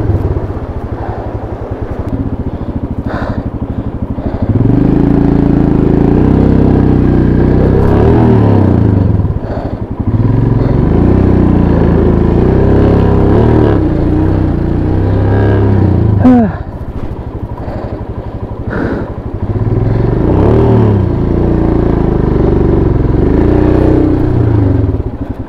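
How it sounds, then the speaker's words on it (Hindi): Motorcycle slipping and struggling through water near the China border, engine loud and close, revving in surges with clattering and splashing as it labors across, dipping briefly between pushes. "बाइक भयंकर फिसल रही है, लेकिन अब कोई दूसरा चारा नहीं है। मैं पानी में उतर आया हूँ"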